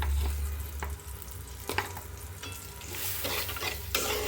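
Ground chili and coriander spices frying in oil in a pan, loud continuous sizzling with repeated stirring scrapes and clinks of a spoon against the metal.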